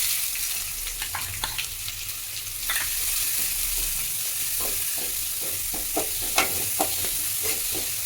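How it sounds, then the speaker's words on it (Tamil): Chopped onions with curry leaves sauté in a frying pan for an egg curry, with a continuous close sizzle and intermittent scrapes and taps of a spatula being stirred through; no speech. "வெங்காயம் நல்லா கொஞ்சம் ஆகிற வரை நம்ம வதக்கிட்டே இருக்கிறோம்"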